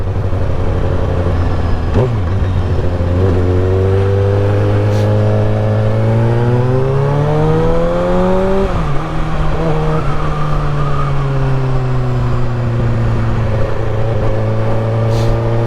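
A supersport motorcycle engine runs steadily while being ridden, its loud, close drone rising and falling in pitch as the bike speeds up and eases off, with no talking over it.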